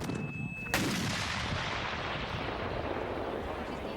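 A single loud cannon boom close by at an artillery competition, a sudden blast followed by a long rumbling roar and decay that fills the rest of the moment.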